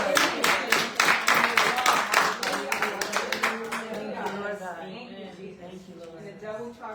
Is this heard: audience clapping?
yes